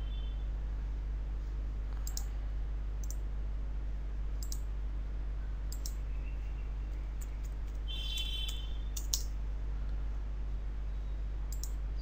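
A computer mouse clicking at a desk, a handful of sharp, faint, isolated clicks spaced irregularly over a steady low hum, with one brief cluster of quick clicks partway through and no voices.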